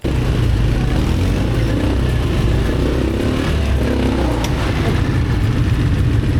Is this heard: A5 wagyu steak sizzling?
no